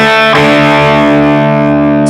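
A distorted electric guitar plays a thick, sustained chord from a riff. It rings loud and close, then decays slowly with no voice over it.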